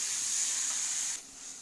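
Tomatoes frying in a pan for a long beans sabji, giving a steady bright sizzling hiss that drops abruptly to a quieter simmer near the end, with no talking.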